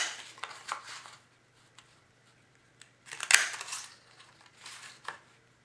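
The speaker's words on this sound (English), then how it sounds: "So we're gonna just take our scallop edge punch and punch along." A scallop edge punch cuts along the edge of paper for a Halloween treat bag, giving a few short crunching snips in two bursts with a quiet pause between them, close and fairly faint.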